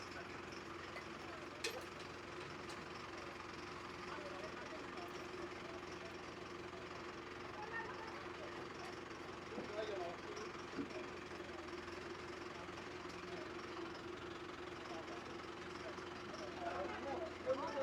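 Tractor engine idling and chugging at a distance during a flood rescue, a low steady rumble with faint knocking, under intermittent voices and outdoor background noise.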